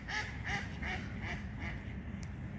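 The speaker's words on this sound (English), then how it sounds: "They're so funny the way they quack." Green-faced ducks quack on water in a run of about five evenly spaced, nasal calls, close and clear over a soft background hum.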